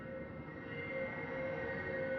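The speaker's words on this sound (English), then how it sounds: "the distant sound of a train whistle," A distant train whistle in the video game Honkai: Star Rail holds as a steady tonal hum over low rumbling for a couple of seconds, faint and far off, with no talking.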